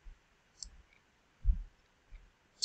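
A computer mouse gives a few sparse, soft clicks close by, separated by pauses, with a couple of faint taps in a quiet room.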